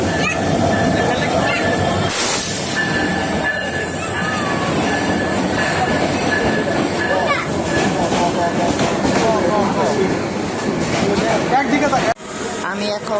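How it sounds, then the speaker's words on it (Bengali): The Paryatak Express passenger train rolls into a station with a loud, continuous rumble and squealing wheels, while people talk nearby. "আমাদের পর্যটক এক্সপ্রেস আসতেছে"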